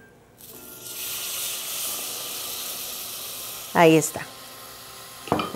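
Gravy broth hits a hot pan and sets off a sudden, loud hiss that slowly settles into a steady sizzle. A brief spoken phrase and a light clink follow near the end.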